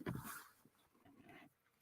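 A pet dog named Camper pants and whimpers quietly in a short burst, faint and close, with no talk over it.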